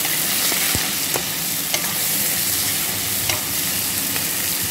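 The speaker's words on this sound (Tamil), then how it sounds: "அந்த தக்காளியையும் இப்போ நான் இதுக்குள்ள இணைச்சி நல்ல வடிவாக வதக்கி எடுக்க போகிறேன்" Chopped tomato is sautéed in a pan for a beans curry, giving a steady close-up sizzle broken by occasional stirring scrapes and taps.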